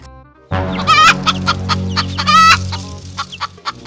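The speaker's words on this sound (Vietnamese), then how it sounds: "Đây là một con gà mẹ đấy." A mother hen clucks up close in a farmyard, a run of short harmonic clucks with two louder drawn-out calls, then softer scattered clucks trailing off.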